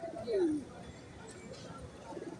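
A pigeon coos once, low and close, amid a noisy crowd at Kaptan Bazar pigeon market in Dhaka, with faint chatter in the background.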